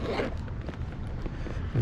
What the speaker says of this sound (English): Zippers up.